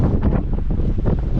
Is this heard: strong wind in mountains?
yes